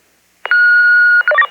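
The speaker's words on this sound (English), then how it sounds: "Connie, whoever thought that you could trigger a hospital emergency by dialing your cell phone" A cell phone plays DTMF dialing tones, one long steady tone followed by a quick run of shorter keypad beeps, loud and close with nothing else around it.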